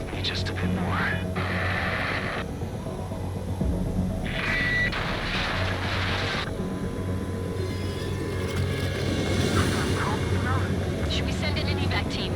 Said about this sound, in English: I'll attempt a belly landing.